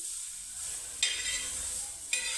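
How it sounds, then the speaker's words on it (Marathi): Garlic and onion roast on a hot griddle for bharit, a quiet steady crackle broken by two sharp sizzling bursts as the pieces are stirred or turned. "सगळ्यात पहिले तव्यावर टाकायचं लसण आणि कांदा भरीत करण्यासाठी"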